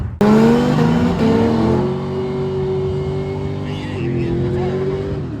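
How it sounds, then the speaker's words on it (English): A 1933 Ford pickup launches against a Firebird in a midnight drag race, one loud sudden engine blast settling into a sustained high revving drone, close and powerful, with an announcer speaking over it. "'33 Ford pickup taking on the Firebird."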